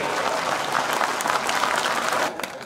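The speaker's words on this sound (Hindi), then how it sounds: "ताली कमजोर है आपकी" Dense applause from a Hindi comedy poetry gathering (kavi sammelan) audience, steady and loud for over two seconds before thinning out at the end.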